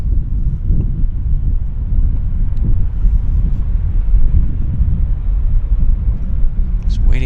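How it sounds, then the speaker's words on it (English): Steady gusting wind buffets the microphone at Vancouver airport, a continuous low roar and rumble that persists throughout with no break. "The wind picked up, as you guys can hear."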